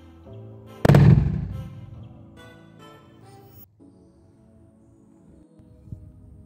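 A small homemade hydrogen gas explosion gives one sharp, loud pop that quickly fades into a low rumble, followed by quiet with a faint tick near the end.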